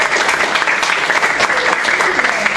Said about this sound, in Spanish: Así que las vamos a despedir con un aplauso a Agustín Pérez.